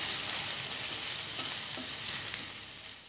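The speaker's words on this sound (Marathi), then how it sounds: "अगदी 5 ते 7 मिनिटं मीडियम आचेवरती मी कारेला छान परतून" Bitter gourd (karela) sautéing in oil over medium heat for a Marathi-style sabzi, giving a steady close sizzle and frying hiss with faint stirring scrapes, no voices.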